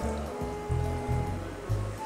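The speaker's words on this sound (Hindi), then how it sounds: "अब इसमें 1 गिलास के करीब पानी ऐड करेंगे।" About a glass of water poured into beef masala with cinnamon sticks in a wok, a soft, continuous gushing and splashing with gentle pulsing, fairly quiet and close.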